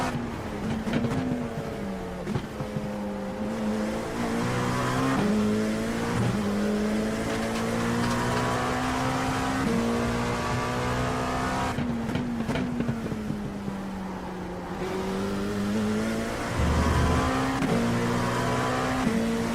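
An LMP2 prototype race car engine in the iRacing sim, droning loudly and continuously while climbing through gears with repeated upshift dips and rising pitch sweeps, no talking.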